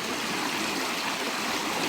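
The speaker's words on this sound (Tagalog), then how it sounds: "itong ilog na ito, sapa na ito" Creek water flowing outdoors, a steady loud rushing and burbling that fills the whole stretch without pause.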